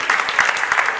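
A short burst of applause at a press conference, many hands clapping together in a dense, lively patter.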